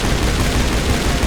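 Rapid gunfire from a weapon in Mass Effect, a dense, continuous burst of loud shots with no pause, close and harsh, filling the short stretch alone.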